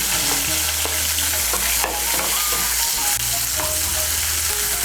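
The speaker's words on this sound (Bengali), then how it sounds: "তেলের সঙ্গে মিশিয়ে নিয়ে লাল করে ভেজে নেব।" Chopped medium onion stir-fried in hot oil sizzles loudly and close, with repeated scraping and stirring strokes from a spoon against the pan.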